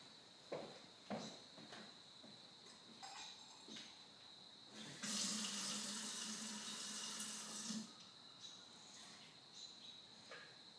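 Water runs from a tap into a container for a few seconds, a steady rushing stream amid faint handling clicks and quiet background insects.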